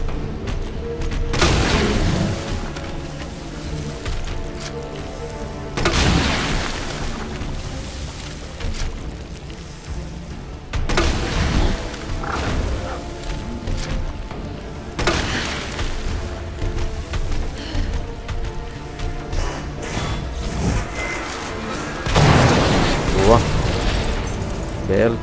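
Gunfire in the video game Resident Evil 2 Remake, with heavy booming shots every few seconds over a constant rumbling background while a person talks throughout.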